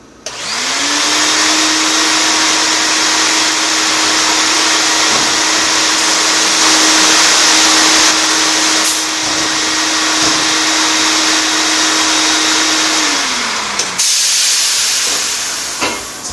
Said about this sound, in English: Got the compressor up and running.